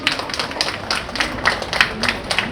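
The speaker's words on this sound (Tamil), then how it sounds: "உள்ளபடி அவருக்கு ஒரு பலத்த கைத்தட்டலை நீங்கள் தர வேண்டும்" An audience claps in steady, dense applause at a Tamil debate event at a book fair, a continuous patter of many hands of moderate loudness with a murmur of crowd underneath.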